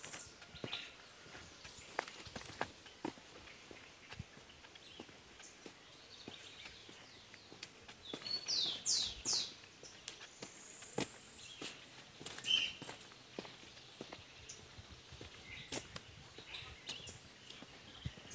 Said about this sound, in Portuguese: Muito legal o canto dos pássaros.